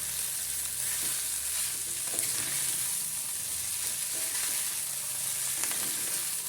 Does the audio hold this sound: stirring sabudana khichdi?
yes